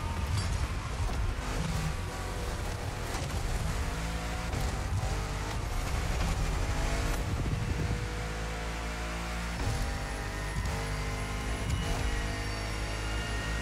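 A Citroen GT hypercar races in The Crew Motorfest, its engine a loud, continuous drone with shifting pitch that stays steady for the whole stretch, with no talk.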